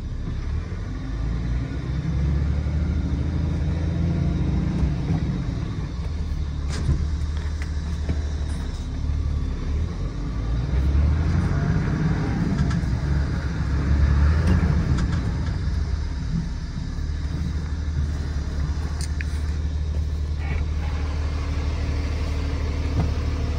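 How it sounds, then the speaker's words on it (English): Low, steady engine rumble and road noise from inside a 2005 Dodge Cummins diesel pickup with a bale bed while driving, fairly quiet and continuous with a few faint cab rattles and no talking. "This truck's really quiet inside."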